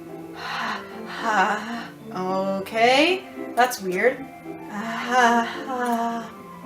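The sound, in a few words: sharp breathing inhale in video game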